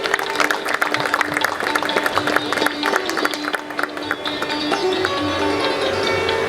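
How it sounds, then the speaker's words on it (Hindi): Loud, sustained applause from an audience welcoming an honoured minister at a centenary celebration event in Mumbai, dense clapping continuing steadily throughout with some crowd noise. "कृपया जोरदार ताली से स्वागत करें।"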